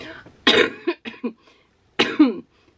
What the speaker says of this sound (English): I knew I was gonna cough.